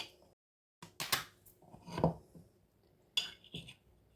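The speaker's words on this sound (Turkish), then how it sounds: "sarımsağın içerisine az bir şey zeytinyağı bir tatlı kaşığı kadar koyup şöyle bir karıştırıyorum ben" Grated garlic and a little olive oil are stirred in a small bowl with a spoon: a few sharp, close clinks and scrapes of metal on the dish, separated by brief pauses in an otherwise quiet room.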